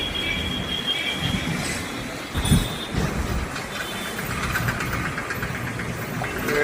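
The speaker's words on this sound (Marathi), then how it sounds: "गाड्या दरदर करतात" Traffic rumbling across the Howrah Bridge over the Hooghly River, a dense continuous roar of engines and wheels with a short heavy thump near the middle, steady and close.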